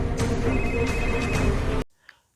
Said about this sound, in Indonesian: Porus yang mendapatkan nomor telepon Divya langsung menelponnya.